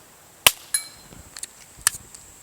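A single shot from an Air Venturi V10 air pistol, a 10-meter competition pistol, gives one sharp close crack, followed by a few smaller mechanical clicks and taps.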